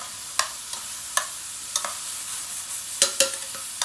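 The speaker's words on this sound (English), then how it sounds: "As you can see, this is sizzling pretty good." Steady frying sizzle in a hot pan at 350°F (175°C), with several sharp metallic clinks of a spoon stirring at irregular intervals; no voices.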